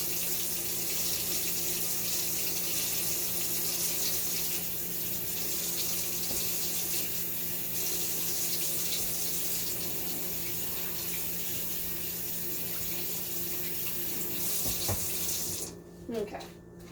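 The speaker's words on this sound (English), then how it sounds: "Washing my hands again, because the meat was a bit bloody." A kitchen tap runs steadily while hands are washed under it after handling bloody meat, a loud continuous splashing rush that stops abruptly near the end, leaving a few drips and small clunks.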